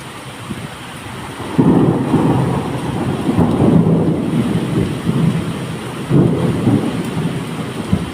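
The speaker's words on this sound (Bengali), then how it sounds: "দেখেন কি সুন্দর বৃষ্টি পড়ছে।" Heavy rain pours down steadily outdoors while deep rumbles of thunder roll through in long swells, loud and close, with no voices.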